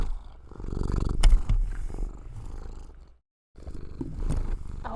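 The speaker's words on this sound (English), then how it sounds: "I'm trying to hear the kitty." A cat purring right against the microphone, a close, continuous low rumble that swells and fades, broken by a brief moment of silence midway before resuming.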